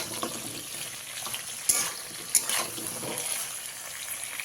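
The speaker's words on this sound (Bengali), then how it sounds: "এবারে অল্প পরিমাণ লবণ দিয়ে পটলটাকে আমি ভালো করে লাল লাল করে ভেজে নেব" Pointed gourd pieces frying in a pan with salt, a steady close hiss of hot oil with a couple of brief sharp clinks of a utensil partway through, no voices.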